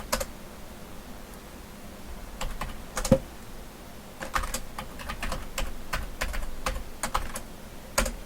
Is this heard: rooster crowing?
no